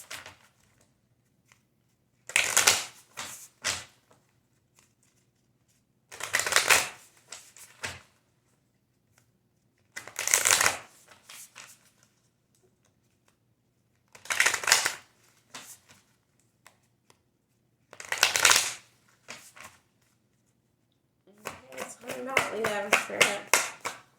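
Tarot self-care cards are shuffled in several short, crisp bursts of riffling and flapping, spaced a few seconds apart with quiet gaps between them, close up and ending in a longer rapid riffle.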